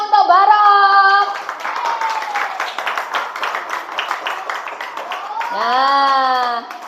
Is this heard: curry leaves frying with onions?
no